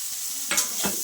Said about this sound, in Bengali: বেগুনগুলোকে আমি একটু ভেজে নেব আগে